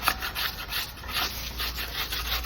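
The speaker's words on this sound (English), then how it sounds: "I just take a piece of aluminum with a little bit of sticky sandpaper on it" Steady back-and-forth rubbing of sticky sandpaper on an aluminum block, scrubbing rust from a 2002 Toyota Tacoma front brake part; close, continuous rasping strokes with no talk.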